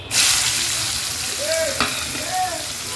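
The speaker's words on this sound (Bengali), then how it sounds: "তো ক্যাপসিকামটা একটু ভেজে নেব।" Chopped capsicum sizzles loudly in a hot pan for fried rice. A continuous close frying hiss is broken by stirring scrapes and a couple of short squeaks from the spatula.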